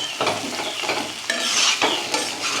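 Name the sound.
chicken with green chillies being stirred in a pan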